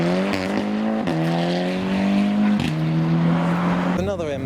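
An Audi engine revs loudly through several rising gear pulls as it leaves a car show, its roar climbing and dropping as it accelerates away, with a voice briefly audible underneath.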